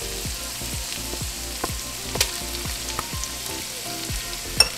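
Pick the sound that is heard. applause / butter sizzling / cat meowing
butter sizzling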